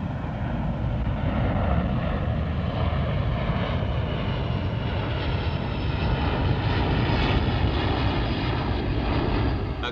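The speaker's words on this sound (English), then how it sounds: "These require aircraft captains to keep the noise levels within permitted limits by climbing at full power" Propeller airliner climbing at full power after takeoff from a busy London airport, a continuous heavy engine drone with a broad rumbling roar, steady and fairly loud throughout, with no voices.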